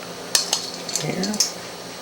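Scooping apples into a baking dish for baked apples: a few sharp clinks of a utensil against the dish, followed by soft scraping and shuffling of fruit pieces, close and brief.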